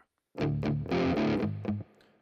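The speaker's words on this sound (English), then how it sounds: "here is how the modern stack sounds without the Tube Screamer" Electric guitar played through a GarageBand modern stack amp simulation with no overdrive pedal in front, a short distorted phrase of a few chords and picked notes, loud and close, ending with a brief ringing decay.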